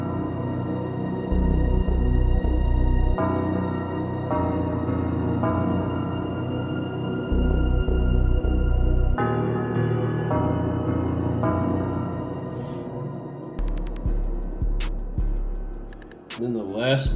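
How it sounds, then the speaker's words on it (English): Dark trap beat playing steadily with a sustained high-pitched background string layer over booming bass, the arrangement shifting in sections and ending with crisp hi-hats. "It's like a high-pitched background string from Kid Chronic's Essentials."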